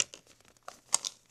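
Sheet of paper folded in half by hand, a few soft crinkles and one sharper crease crunch near the middle, close and quiet with no talking.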